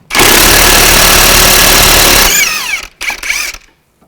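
A ratchet wrench loud and close removes a nut from a front strut on a 2005-2010 Chevy Cobalt, a dense continuous mechanical rattle for about two seconds, then a few shorter scraping metal bursts before falling silent.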